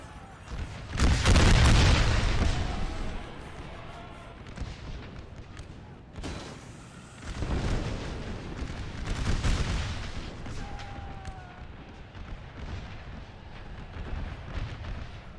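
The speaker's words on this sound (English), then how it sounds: "My artillery can start focusing down this line." Cannon fire from an American Civil War battle at Gettysburg in a Napoleon Total War mod: a heavy, close boom early on, then further rolling blasts in the middle and quieter scattered reports toward the end.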